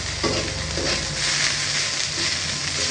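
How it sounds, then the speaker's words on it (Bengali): Radish greens with shrimp fry in a pan on low heat, giving a continuous close sizzle with a few soft stirring scrapes, steady and alone without talk. "এখন আমি একটু লো হিটে এটারে ভাজা ভাজা করবো"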